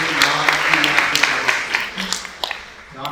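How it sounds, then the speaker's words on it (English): Audience applause at the close of a lecture, a brisk patter of claps heard close by that thins out toward the end. "Round of applause."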